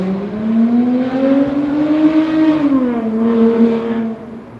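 A loud car revs hard and passes close by, the engine tone rising, dipping and sliding down as it moves away over several seconds, with no voices.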